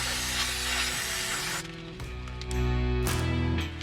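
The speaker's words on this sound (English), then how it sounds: "we're gonna spray some cleaner or protector over the top when we're done" Cleaner or protector sprayed over RV battery terminals gives a soft, close hissing spray in short bursts, with quiet handling sounds between them.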